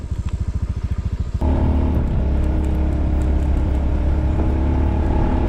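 A motorcycle on a rough road during a Philippine city tour starts with a fast, even engine putter, then breaks into a loud, continuous rumble and clatter as it rides along the uneven surface, with no talking.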